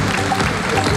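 Audience applause in a hall as a guest is welcomed on stage at a hair and beauty college event, a dense continuous clatter of many hands, fairly loud and unbroken.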